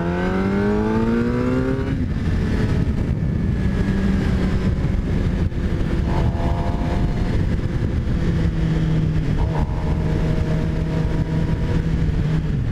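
A 2018 Suzuki GSXR750 sport motorcycle revs hard while riding on a highway, its engine pitch climbing and dropping through repeated gear changes, loud and close alongside steady road and wind roar.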